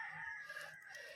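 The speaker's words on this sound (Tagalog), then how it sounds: "Ayan mga farm ng manok." Chickens and a rooster at a rural poultry farm, a steady blend of clucking and crowing-like calls close by, filling the short stretch without any talking.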